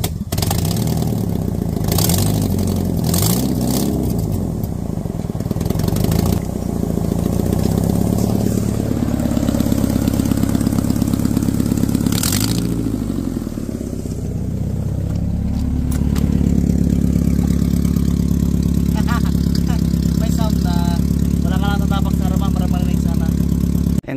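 A vehicle engine fitted with new backyard-fabricated straight-pipe exhaust headers, running loud and close with a rough, steady idle and a few blips of revving; someone talks over it at times.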